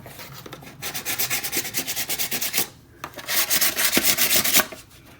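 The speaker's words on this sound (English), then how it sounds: "First I'm gonna take my sandpaper" Sandpaper rubbed by hand over a tumbler in two bursts of rhythmic back-and-forth strokes, loud and close, separated by a brief pause.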